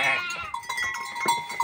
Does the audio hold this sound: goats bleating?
yes